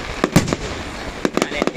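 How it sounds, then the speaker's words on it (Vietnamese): Fireworks pop and crackle in a series of sharp bursts at a New Year's Day display at My Dinh Stadium, some close and loud, others fainter, with a crowd murmuring throughout. "Mà đó là bắn pháo hoa nghệ thuật rồi."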